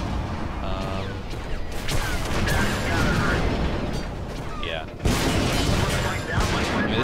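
Tank cannon fire in the World of Tanks game, with dense booming shots and crashing impacts layered over continuous battle noise, plus a sharp loud burst near the end. Someone talks over the action.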